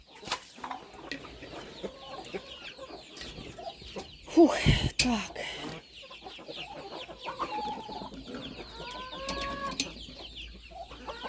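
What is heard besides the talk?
hen clucking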